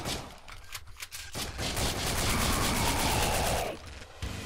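Heavy automatic gun in the co-op zombie survival game Final Days fires a sustained, loud burst of rapid shots for about two and a half seconds, bracketed by brief lighter gunfire before and after.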